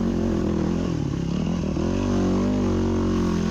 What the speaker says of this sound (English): I love the hard enduro style riding.